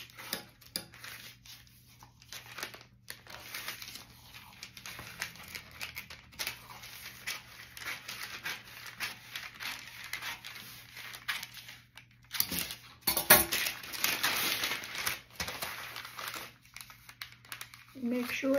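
Scissors cut through a paper pattern for a witch hat, giving soft crisp snips and crinkling paper handling close by, with a louder rustling stretch near the end.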